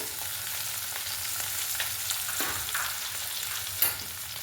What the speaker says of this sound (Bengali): বেগুনটা ভেজে নেব উপর থেকে দিলাম হলুদ গুঁড়ো